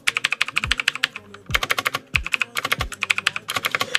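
Rapid typing on a budget multicolour mechanical keyboard, bursts of crisp clacking keystrokes close up in quick uneven runs, with brief pauses between flurries and no voice over it.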